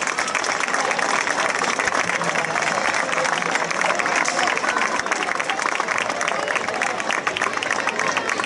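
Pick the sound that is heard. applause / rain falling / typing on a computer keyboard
applause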